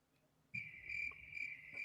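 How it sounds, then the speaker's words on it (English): Cricket chirping used as a sound effect starts abruptly after a moment of silence, a close, shrill continuous trill with slight pulsing, ending in a brief louder knock. "It's crickets. Crickets. Oh, wait. I got crickets."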